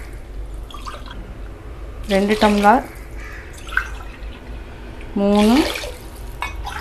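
Water poured from a tumbler into a cooking pot of cowpea rice, coming in two short gurgling bursts a few seconds apart, close and clear, while someone speaks over it counting.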